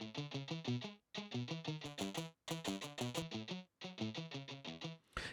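A distorted electric guitar through a cabinet-simulation impulse response chugs rapid rhythmic riffs in short repeated bursts with brief pauses, crunchy and close, ending in a sharp noisy hit.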